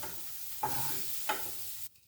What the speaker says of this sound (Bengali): সবই সাতলানো ভাজা